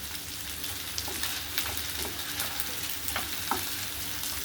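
Brain fry cooks in a pan while being stirred gently, giving a steady close sizzle broken by soft scraping and clicking stirs at irregular intervals, with no voices.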